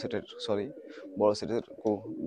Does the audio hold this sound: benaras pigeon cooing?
yes